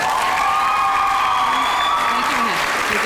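A sixth-grade graduation crowd claps and cheers in a dense, steady wash of applause that fills the whole stretch, with scattered voices rising above it.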